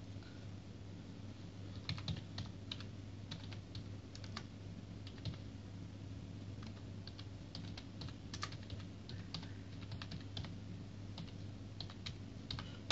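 Typing on a computer keyboard to enter fastboot commands for a OnePlus 2 phone, a steady run of soft, fairly quiet key clicks with irregular rhythm over a low background hum, no talking.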